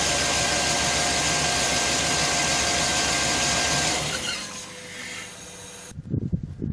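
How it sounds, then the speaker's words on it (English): A Chevrolet Suburban engine idling right after an oil change, a loud steady drone for about four seconds that fades, followed by faint shuffling and handling noises. "I will start the engine and let it run until the oil pressure comes up"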